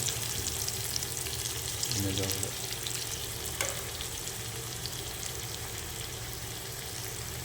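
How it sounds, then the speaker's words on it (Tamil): Mutton keema kebabs fry in a pan with a steady, close sizzle that holds throughout, with a brief soft scrape partway through as a piece is moved. "இதே மாதிரி ஃப்ரை பண்ணி நான் காமிக்கிறேன்."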